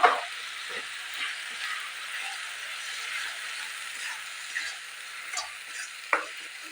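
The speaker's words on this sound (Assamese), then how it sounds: "গোটেইখিনি মছলাৰ লগত ভালদৰে ভাজি ল'ব লাগিব।" Mustard paste frying with spices in a pan, a steady soft sizzle and hiss with repeated scrapes and knocks of stirring throughout, close and moderately quiet, no talking.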